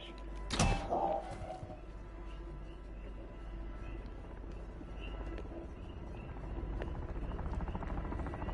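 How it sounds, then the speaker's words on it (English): An enemy attack helicopter from the game Plunder 808 Hawaii drones steadily in the airspace, a low rotor rumble running throughout and growing louder toward the end, with a sharp impact early on. "Enemy attack helos in the airspace"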